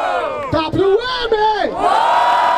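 Crowd at a Brazilian freestyle rap battle semifinal in Barueri roars and cheers loudly, with sustained shouting voices and whoops rising and falling throughout.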